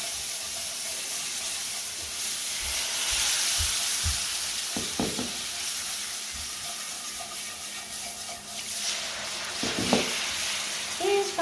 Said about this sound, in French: Donc, je rajoute mon bouillon tranquillement.